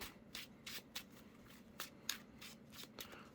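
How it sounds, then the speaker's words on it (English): A deck of trading cards is power shuffled, giving a quick run of crisp, close riffling bursts at an irregular rhythm with no talk. "The power of power shuffling."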